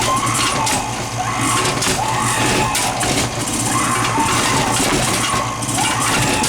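A pneumatic ghostly woman Halloween animated prop, run on a small compressor, activates with loud continuous hissing air and mechanical clatter, its cycles repeating every couple of seconds close to the listener.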